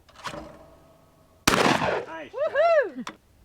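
At a dude ranch rifle range, one loud, sharp gunshot rings out from a lever-action .22 or cowboy-style firearm. A voice follows right after the blast.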